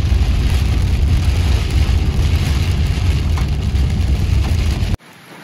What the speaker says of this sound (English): the storm caught up with me and it started raining